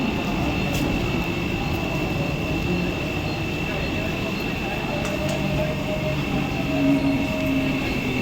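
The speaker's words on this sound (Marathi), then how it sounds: "7:33 की दादर जाने वाली तेज लोकल थोड़े ही समय में प्लेटफॉर्म क्रमांक 4 पर आ रही है" A Mumbai fast local train bound for Dadar rolls in at a platform at night. It gives a steady, loud rumble with a constant high whine, and a faint squeal of brakes rises near the end.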